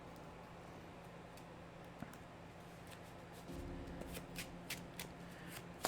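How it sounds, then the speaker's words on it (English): A deck of playing cards being shuffled during a Lord of the Rings card game, a soft riffle and rustle of cards starting midway and continuing with crisp flicks, close and fairly quiet against low room hum. "then shuffle your deck"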